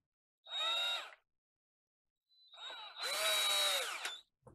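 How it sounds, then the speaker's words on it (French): A cordless electric drill runs screws into a Rotax DSC engine's lower-end casing in two close bursts: a short whine, a pause, then a longer run that winds down at the end. "La perceuse."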